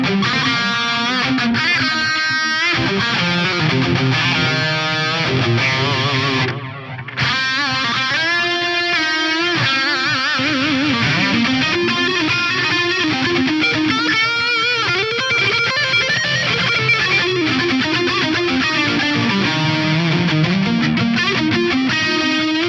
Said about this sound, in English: We'll start out with the BRIG. I love the way you can set this super dark to have the echoes kind of melt away.